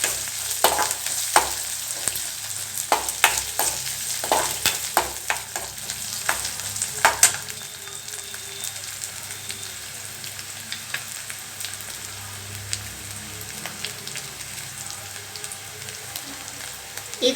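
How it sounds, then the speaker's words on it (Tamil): Chopped onions sautéing in a pan with stirring, steady close sizzle broken by sharp scraping strokes of a utensil during the first half, then a quieter continuous frying hiss with occasional stirs. "கொஞ்சம் நல்லா வெங்காயத்தை வதக்கிக்கோங்க."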